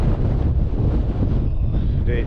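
Gusty mountain wind, around 20 mph with 25 mph gusts, roars steadily and loudly against the microphone at a blustery, wet wild camp near the Scafell range.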